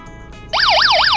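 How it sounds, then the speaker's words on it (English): A Snap Circuits Jr. electronic toy siren switches on after a quiet moment and wails loudly and steadily, its pitch sweeping up and down in a fast, even rise-and-fall cycle. "so that was the light siren"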